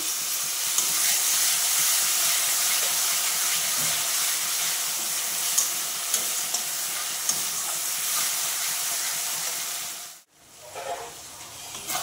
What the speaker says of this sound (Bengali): আমি মশলা ধোয়া বাটির জলটা দিয়ে দিচ্ছি।